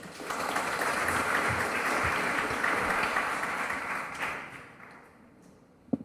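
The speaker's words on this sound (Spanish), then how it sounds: "Hurtado, profesor de Derecho Procesal Penal, a quien le brindamos un fuerte aplauso." Applause from an audience at a formal judicial plenary session in a hall, dense steady clapping that fades out over several seconds and ends with a single sharp knock.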